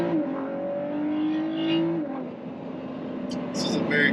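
A supercharged 2021 Ford F-150 launches and accelerates hard, its engine note climbing steadily for about two seconds before easing off, close and fairly loud, with people talking over it.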